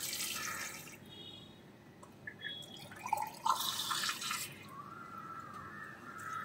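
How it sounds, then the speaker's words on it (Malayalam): Water is poured over cut cauliflower pieces in a pot before boiling, producing a steady splashing and trickling stream that runs through most of the clip, close and moderately loud, with no talk. "അപ്പോൾ അതിന് കുറച്ച് വെള്ളം ഒഴിച്ചു കൊടുക്കാം."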